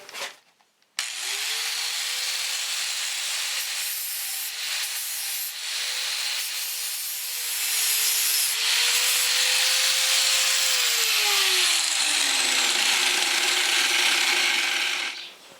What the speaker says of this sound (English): nice ripping disc here for paint. It's an 80 grit.